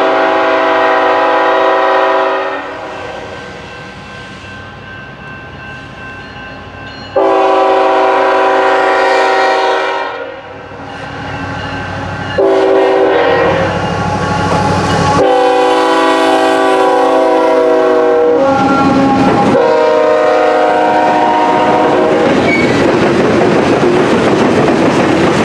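A CPKC freight train led by an ET44AH locomotive rolls past close by with a loud, sustained rumble, sounding its horn in several long blasts over the clatter of passing cars.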